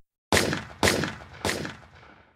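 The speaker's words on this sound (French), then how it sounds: "dans sa fuite, elle se retourne et tire plusieurs coups de feu en arrière" Three sharp gunshots, fired backwards from a motorcycle speeding away, spaced evenly about half a second apart as a dramatic audiobook sound effect. Each shot is loud and close with a lingering reverberant tail, and there is no talk over them.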